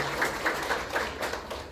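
A small crowd claps at a public lecture for invited citizens, fairly faint, with evenly spaced claps from a few hands over a low room hum.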